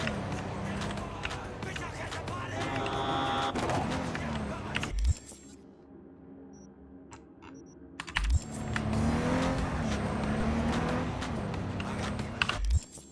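A car driving and revving in Cyberpunk 2077, its engine a steady loud drone that drops out briefly midway before roaring back, with music and a voice talking over it.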